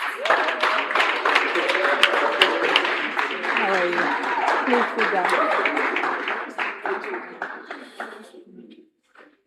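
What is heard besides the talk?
audience applause welcoming a guest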